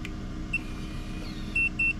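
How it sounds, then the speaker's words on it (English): Three short electronic beeps from a Latchit keyless RV door lock during programming, the first single and the last two close together near the end, over a steady low background hum. "Hold that down at the same time till it beeps"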